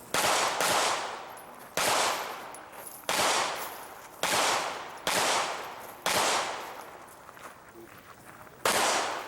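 Pistol shots at an IDPA match at Mecklenburg Wildlife Club, seven sharp cracks spaced about a second or more apart, each trailing a long echoing decay, fairly close.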